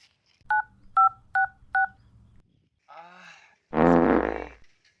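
Four short, evenly spaced telephone keypad tones beep in quick succession over a low hum, followed by a brief rustle and a louder burst of rough noise.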